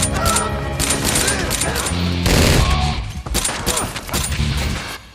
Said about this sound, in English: they run for their lives while shooting at the full squad of bad guys on their tail